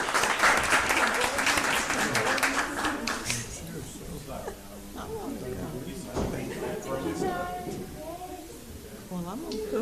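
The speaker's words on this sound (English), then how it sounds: "Let's give these amazing young people a round of applause." A crowd applauds steadily at a school board meeting, dense clapping that slowly thins out while someone talks over it.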